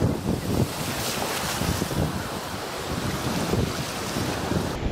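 Ocean surf rolling onto a beach as the tide comes in, a steady broadband wash with wind buffeting the microphone throughout, no voices.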